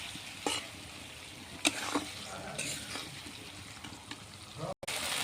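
Previously fried potatoes are stir-fried in a pan with spiced oil, producing a low, steady sizzle broken by a few stirring scrapes and knocks, with a brief dropout near the end.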